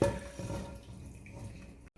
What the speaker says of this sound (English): you want to add some broth into the pan